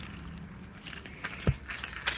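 Keys jangle in a few short metallic bursts against a quiet room, a bunch of RV keys including a black oval entry-door key and small silver CH751 storage compartment keys, heard close.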